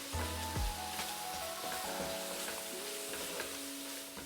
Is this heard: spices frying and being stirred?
yes